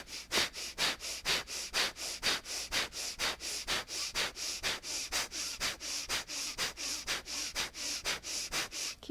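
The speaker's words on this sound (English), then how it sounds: "There's a pulsing action from the belly as you're doing this." During a yoga breathing exercise, quick forceful belly-pumped exhalations come through the nose in a steady, rapid rhythm, about three bursts per second, close and clear with no talk.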